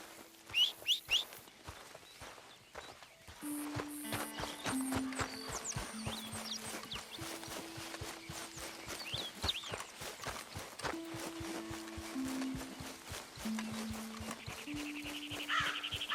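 Steady rhythmic clip-clop of horse hooves walking in the video game Red Dead Redemption 2, close and clear, with faint tonal music and a few brief sounds over it.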